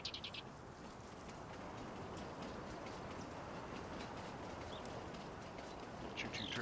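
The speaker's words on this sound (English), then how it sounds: "Choo-choo train." Train passing in Farming Simulator 19, a low continuous rumble with faint rhythmic rail clatter at moderate distance, plus brief high chirps like birds over the top.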